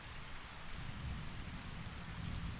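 Steady, dense rainfall with a deep low rumble like distant thunder, filling the whole stretch as a continuous even wash with no voices.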